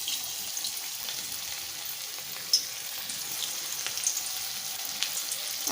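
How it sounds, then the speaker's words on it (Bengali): Chicken fritters fry in hot oil, giving a steady, soft crackling hiss that runs throughout with a couple of brief clicks, no voices. "গরম তেলে ভেজে নেব।"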